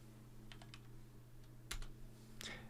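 Keys clack on a computer keyboard in a quiet room during switch configuration, a few scattered taps followed by a couple of louder keystrokes, faint over a steady low electrical hum.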